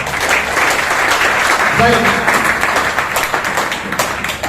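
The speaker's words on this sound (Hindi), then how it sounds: "अपने लिए एक बार जोरदार तालियां होनी चाहिए।" Loud applause from an audience at a motivational business talk, dense clapping sustained throughout with a voice briefly heard in the middle.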